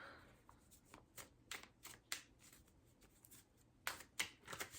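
Tarot cards being shuffled by hand in a series of quick, crisp riffling bursts, close and fairly quiet, with short gaps between shuffles.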